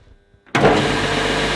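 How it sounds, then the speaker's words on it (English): Belt sander switching on from silence with a sudden onset, then running steadily with a loud, continuous motor whir and belt rush, alone with no talk. "Belt sander comes on, everything good."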